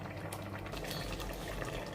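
A pot of fish broth made with a stock cube simmers on the stove, giving a steady, soft bubbling and hissing texture that stays even throughout, close but quiet, with no voices.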